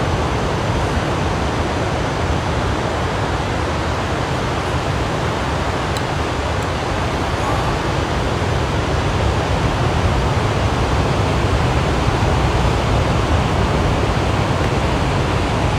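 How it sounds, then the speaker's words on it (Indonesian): Ocean waves rolling onto a beach at Alas Purwo, Banyuwangi, a steady, dense roar of surf that stays loud and unbroken with no voices over it. "cuman ada suara-suara ombak aja kalian dengar kan?"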